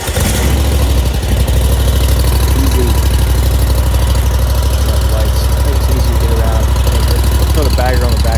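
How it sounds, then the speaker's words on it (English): A riding lawn mower engine, cold and choked, runs at a steady, loud, throbbing idle close by after a brief start, with a person talking over it. "See how this starts up after it's been cold here for a while."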